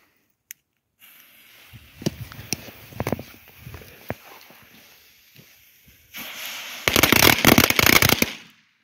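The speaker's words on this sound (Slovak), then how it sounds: "Mal by mať 40 rán, trošku som to pokazil." A 40-shot firecracker carpet goes off as a string of sharp, irregular bangs and crackles, building into a dense, loud rapid-fire volley near the end.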